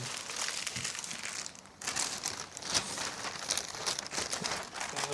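A plastic garbage bag is handled up close, with continuous loud crinkling and crumpling across five seconds and a brief lull near the start.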